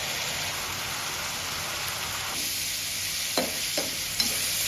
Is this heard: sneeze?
no